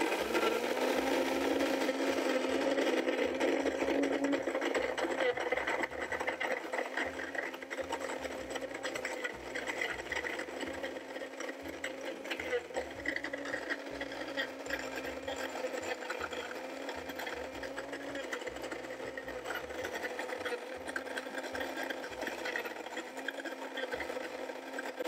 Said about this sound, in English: So I already have that set and I'm gonna whir some up here.